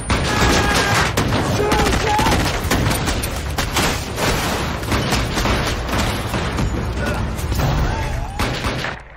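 Gunfire erupts in a hotel room shootout scene from the 2012 film 21 Jump Street, rapid loud bursts of shots and impacts layered densely with shouting voices throughout.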